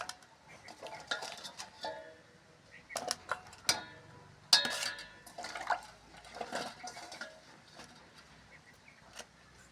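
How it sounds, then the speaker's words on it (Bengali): Cut taro pieces are washed in water in a metal bowl, with irregular clinks, knocks and splashy rattles coming in bursts. "এখন ধুয়েও নিচ্ছি"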